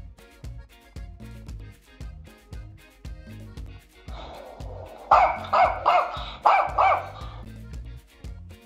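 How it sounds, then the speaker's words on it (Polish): A dog barks in a quick series of five loud, close barks that follow one another rhythmically over a bouncy children's music track. "Pies."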